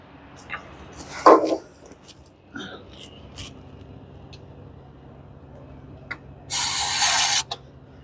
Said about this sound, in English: I should be able to spray it with this starting fluid